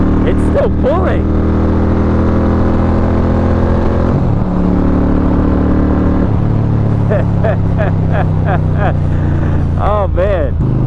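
An Indian Roadmaster Thunderstroke 116 motorcycle fitted with Indian cams, intake and exhaust accelerates hard, its loud engine tone rising and dropping between gear shifts under constant wind roar.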